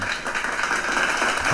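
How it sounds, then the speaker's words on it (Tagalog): An audience claps, a steady dense patter of many hands, continuous and fairly close, with no talking. "Pumalakpak naman kung naintindihan ako."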